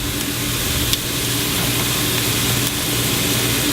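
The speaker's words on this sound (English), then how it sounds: "And good old sizzle." Marinated Korean BBQ beef ribs sizzle steadily on a hot cooking surface, a continuous broadband hiss with occasional faint pops, close and fairly loud with no talking.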